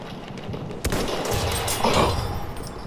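Battlefield 1 gunfire crackles in close, repeated bursts, sharp cracks standing out over a dense, noisy battlefield bed.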